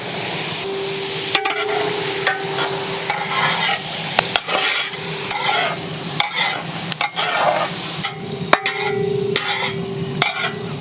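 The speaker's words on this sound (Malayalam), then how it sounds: "നമ്മുടെ സവാള ഒന്ന് പെട്ടെന്ന് വേണ്ടിയിട്ട് കുറച്ച് ഉപ്പിട്ട് കൊടുക്കാട്ടാ." Onions with salt fry and get stirred in a pan while rain falls outdoors, a steady loud sizzle with repeated scraping strokes of a spoon and occasional sharp clinks, no talk.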